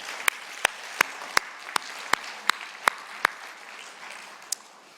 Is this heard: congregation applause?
yes